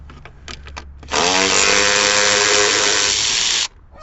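A power tool whirs steadily for a few seconds, loud and close, removing a 10 millimeter bolt on a Chrysler 200, preceded by a few light clicks and ending abruptly.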